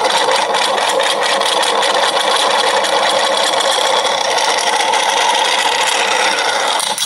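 A 3-phase spin device whirls a magnet on a slippery pole, giving off a steady, loud mechanical whir and buzz that holds constant throughout and cuts off abruptly at the very end.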